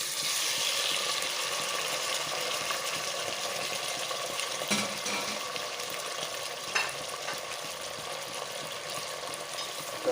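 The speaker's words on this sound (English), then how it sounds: "Let it fry really well." Ivy gourd (tendli) frying in a pan, a continuous hiss and sizzle with occasional scraping stirs and small pops, close and steady with no talking.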